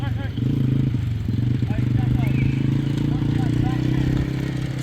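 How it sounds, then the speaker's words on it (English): A farm motorbike idles and runs steadily at close range on a sheep farm, its mid-pitched engine hum constant throughout, with people talking over it. "Jump on the back of the bike with Grace."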